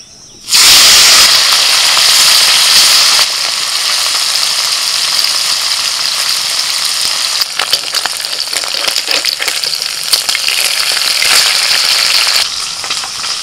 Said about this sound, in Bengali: তেল গরম হয়ে গেছে, এবার মৌরলা মাছ ভেজে নেব।